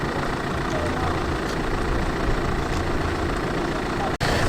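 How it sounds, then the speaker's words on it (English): A diesel engine idles nearby at a classic car show, a steady low rumble running continuously with broadband outdoor noise and no clear pauses. "Apologies for the noise of something diesel running over there"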